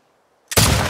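A single loud gunshot from a rifle in The Last of Us Part II cracks after half a second of near silence, then booms on with a sustained report to the end.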